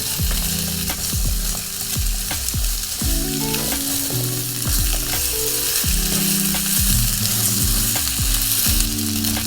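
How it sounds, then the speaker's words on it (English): Potatoes and carrots fry in a pan, a loud continuous sizzle broken by repeated scraping and clanking as a utensil stirs them, close up with no voices. "In the same pan, add the potatoes and carrots. Fry for a few minutes and stir well."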